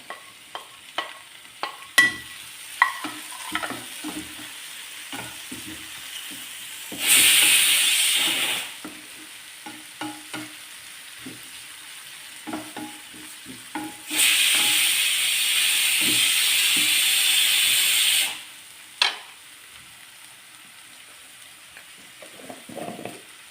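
Onions, green chilies and tomatoes sautéing in a pan for a spinach and lentil curry, with a steady sizzle and two long loud hissing bursts, plus scattered stirring clinks and scrapes.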